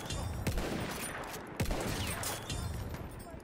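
Submachine gun fire crackles in Battlefield 1, a few sharp bursts over a dense, noisy battlefield backdrop.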